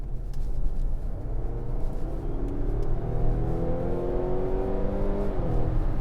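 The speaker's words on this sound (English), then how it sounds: "if you flick into sport mode, this is the bit that really blows me away" Mazda CX-60 engine pulling hard in sport mode, a deep steady rumble with engine tones climbing smoothly in pitch through the gears, heard from inside the cabin with no talk.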